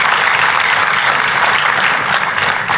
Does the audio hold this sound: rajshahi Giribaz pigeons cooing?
no